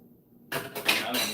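Water pours into a pot holding a cup of rice, a sudden broadband splash starting after a brief silence and running loud and close for under a second.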